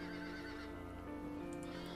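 Black red-eyed horses in a Dracula video game neighing and whinnying loudly, with a steady tonal drone beneath and faint hoof clip-clop, over about two seconds.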